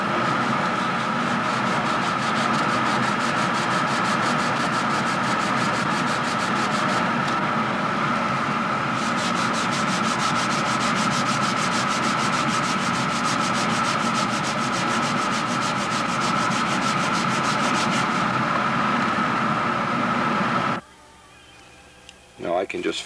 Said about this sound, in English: I'll start with a rough piece of sandpaper, hold it right to the block.